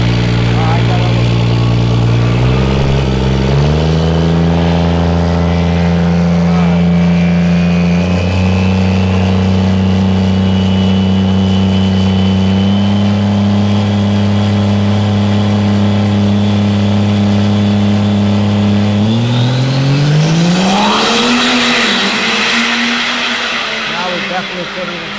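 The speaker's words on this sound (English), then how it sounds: "couldn't even see the truck going down the track" A 2,500 horsepower diesel dually truck racing down a track, its loud engine droning with rising and falling revs, climbing into a sharp high roar near the end; voices talk over it throughout.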